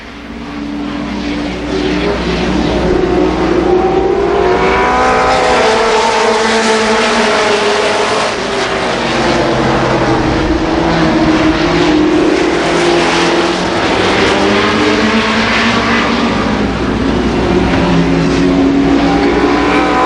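Super late model race cars roaring around Columbus Motor Speedway during a 1990 feature race, a continuous loud wall of engine drone with rising and falling pitch as cars pass, sustained throughout.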